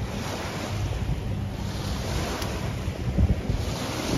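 Surf at Chaguaramas beach in Trinidad washes ashore in a steady roar, mixed with heavy wind buffeting the microphone, and no voices are heard.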